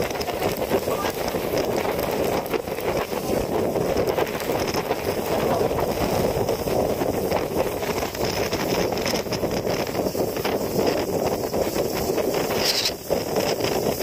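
Strong Typhoon Kabayan wind roars steadily at a rocky shore near boats, a loud, unbroken blast of wind noise battering the microphone throughout.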